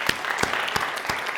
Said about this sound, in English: How about another round of applause for Mitch?